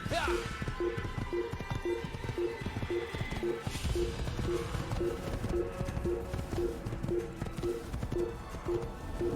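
Steady rhythmic clip-clop of horse hooves at a gallop in the video game Assassin's Creed, loud and continuous, with game music and ambience mixed underneath.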